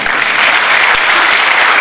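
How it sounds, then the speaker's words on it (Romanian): Loud sustained applause fills the hall at a political party rally, a thick unbroken wash of clapping from a large crowd, heard alone without speech. "aplaudați mai tare"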